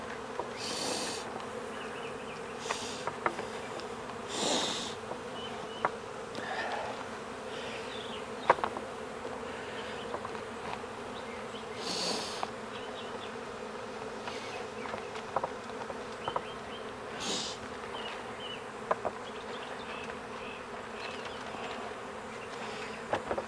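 A honeybee swarm being captured in late May in Jacksonville, Florida, hums quietly and continuously, with louder buzzes of single bees passing close to the microphone and scattered faint handling knocks.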